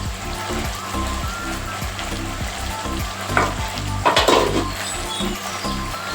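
Cumin and coriander paste frying in a pan with spices for a potol dish, steady sizzling hiss with rhythmic scraping strokes of a spatula stirring, close and moderately loud, a brief louder sizzle flaring midway.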